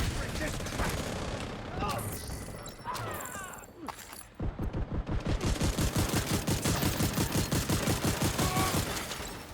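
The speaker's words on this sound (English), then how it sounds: "Indeed, we will take shots at this thing." Video-game weapon fire aimed at a target: after a few seconds of mixed effects and a voice, a steady rapid volley of evenly spaced shots kicks in, loud and close, pounding on without pause until the end.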